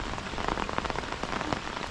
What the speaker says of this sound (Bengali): পুকুর পাড়ে বৃষ্টির দৃশ্যটি আপনারা দেখতে পাচ্ছেন